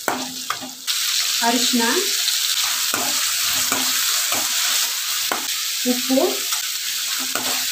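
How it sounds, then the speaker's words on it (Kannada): Garlic with green, red and yellow capsicum fries in a pan for cabbage palya, a steady sizzle broken by repeated scraping stirs, while a voice speaks briefly over the cooking. "ಬೆಳ್ಳುಳ್ಳಿ, green capsicum, red capsicum, yellow capsicum fry ಮಾಡ್ಕೊಳ್ಳಿ."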